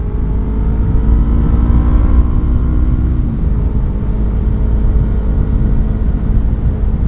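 Yamaha R25 motorcycle at full throttle, a steady loud engine drone with wind rush from riding along a road, a rising tone early that levels off and holds on for the whole stretch with no talk.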